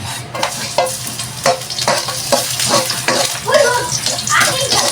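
Garlic hits hot cooking oil and sizzles loudly up close, with a rhythmic series of scraping stirs and bubbling crackle running through the whole stretch.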